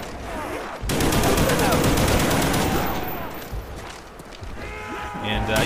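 An HK automatic weapon firing in a Call of Duty zombies match, a long loud stream of rapid shots that holds steady for a few seconds, then thins out amid game noise.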